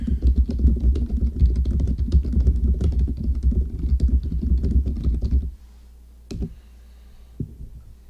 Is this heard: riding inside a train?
no